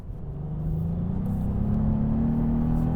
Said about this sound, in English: You can put your foot down and really rev it out